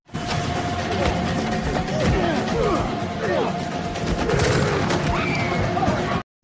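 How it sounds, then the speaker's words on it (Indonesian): A rapid burst of gunfire fired into the air crackles amid loud, chaotic noise, with shouting voices and commotion throughout. "salah satu dari mereka melepaskan tembakan ke udara"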